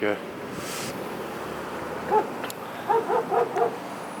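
A few muffled barks from a police canine unit dog, heard somewhat distant in short clusters after a stretch of steady background noise, with faint voices present.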